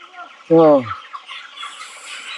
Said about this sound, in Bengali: এই মুরগিগুলো পুরো পাগল হয়ে যেতেছে